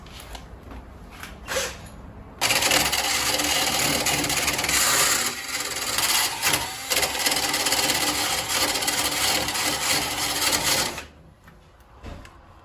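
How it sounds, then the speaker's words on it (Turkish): Sustained, loud abrasive scraping of sandpaper rubbed back and forth rapidly against a small hard part of an ECA Proteus Plus lighter that sparks but makes no flame, close up, lasting several seconds. "Hep birlikte şöyle beraber bir zımpara çekelim."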